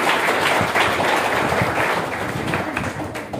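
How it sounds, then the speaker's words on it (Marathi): Audience applause at a Marathi comedy event, a dense steady clatter of many hands that holds strong through the whole stretch and eases slightly toward the end. "एका कुंदे सरांसाठी जोरात टाळ्या"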